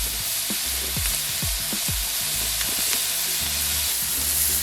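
A continuous hissing sizzle comes from top sirloin steak searing in an oiled pan, close and loud, with scattered light pops and crackles throughout.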